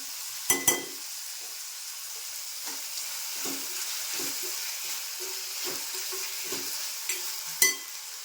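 Ginger garlic paste sizzles in a hot pan while being cooked for Malvani kaleji masala, a steady soft frying hiss broken by a few sharp stirring clinks and scrapes.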